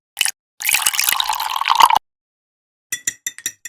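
Water is poured into a tiny bowl of soy sauce, pepper, oyster sauce and flour in a miniature kitchen. A brief splash comes first, then a sustained pour of just over a second, followed later by a few light drips and taps.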